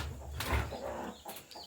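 Hen clucking in a compartment on a poultry farm, a few close, low clucks and rustling, with a brief sharper call near the start, moderately faint and without talk.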